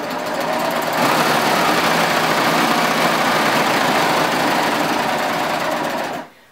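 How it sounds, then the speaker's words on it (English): A serger stitches steadily around the edges of fabric scraps made into reusable paper towels, a loud, close, continuous whir that runs unbroken for several seconds and then stops abruptly. "I just sit down at my serger, and this one has a folded edge, so I'm only going to sew around three sides"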